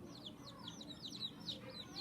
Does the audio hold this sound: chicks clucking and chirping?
yes